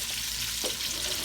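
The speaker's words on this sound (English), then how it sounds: "Now, we're gonna throw my onions in here." Onions sizzle in a pan that still holds the drippings of braised beef shoulder, a brief, even crackling hiss heard up close.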